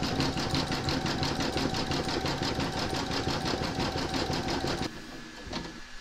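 An embroidery sewing machine stitches a black satin border around a heart on a quilt block, running with a fast, loud, even mechanical rattle before dropping to a quieter hum near the end.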